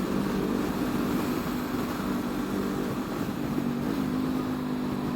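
Honda CB500F motorcycle engine droning steadily while riding, a loud continuous hum with wind rush mixed in, a slight pitch rise near the end, no voices.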